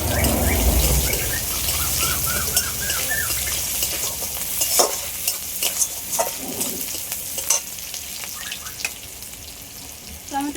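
Chopped onions fry and get stirred in a pan alongside aubergine for a fish curry, with close, loud crackling and a broad sizzle, scattered spatula scrapes and clicks, and a faint chirping sound in the background.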